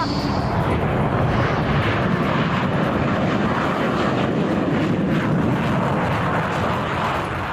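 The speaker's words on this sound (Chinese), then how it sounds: "现在飞机正在从我身边划过" An L-15 twin-engine jet trainer roars past at a flight test field, a loud, sustained jet engine rush that stays strong and close throughout before easing slightly at the end.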